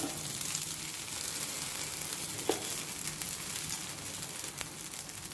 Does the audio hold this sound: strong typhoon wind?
no